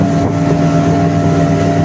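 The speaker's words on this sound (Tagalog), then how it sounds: "Ayan, dito kami, nakasakay kami sa bangka." Loud, steady droning of a motorboat engine with rushing water and wind buffeting on the Dead Sea, continuous throughout.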